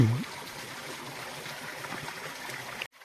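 Water spilling over the brim of a full rural water tank trickles and gurgles steadily at close range, a soft continuous splash that stops abruptly near the end.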